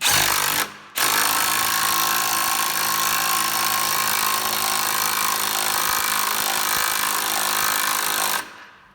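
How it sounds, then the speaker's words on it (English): Power drill fitted with a socket driving a motorcycle jack under a 2015 Harley-Davidson Street Glide Special, a loud, steady grinding whir held for about eight seconds, with a brief pause near the start and an abrupt stop at the end. "you just put on the socket, put it up to your jack, make sure you go in the right direction"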